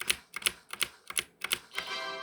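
A loud computer keyboard clatters in a few quick bursts of sharp key clicks, close and clear, with short gaps between them and no speech.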